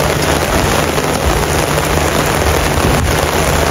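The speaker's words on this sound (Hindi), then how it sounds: "বৃষ্টি আরও বেড়ে গেছে" Heavy rain pours steadily on a cricket stadium during a Champions Trophy 2025 match between Bangladesh and Pakistan, a dense, loud, unbroken hiss with no voices over it.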